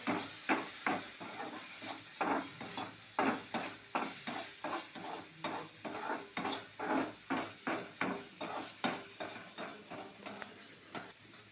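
Vegetables stirred in a hot pan with boiled pasta nearby, a steady rhythm of scraping strokes about twice a second over a soft sizzle, close and moderately loud, with no talking.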